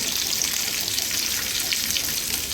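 Okra frying on a tava, a steady broadband sizzle with a constant crackling hiss and no talk.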